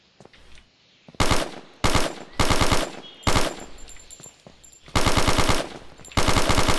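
Weapon firing in the video game Smoking Snakes: loud, close bursts of rapid automatic shots, about six strings of varying length separated by short gaps, with faint clicks between them.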